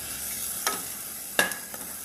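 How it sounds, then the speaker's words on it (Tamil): Vegetables with turmeric and salt sauté in a pan for a kuzhambu, a steady soft sizzle broken by two distinct stirring scrapes, close and without speech. "இதை வந்து நல்லா வதக்குறோம்"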